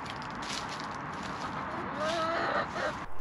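Chickens in a coop on a UK allotment cluck softly and sporadically, faint against a steady outdoor background hiss.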